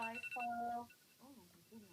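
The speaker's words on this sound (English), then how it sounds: "Oh goodness, that's my phone." A mobile phone alarm rings in a classroom with a tonal, melodic chime at the start, while a person talks over it and then keeps speaking.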